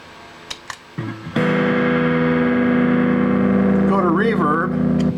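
Electric guitar through a distortion effect and JMP amp, starting with a few picked notes, then a loud sustained distorted chord with a wavering bend near the end.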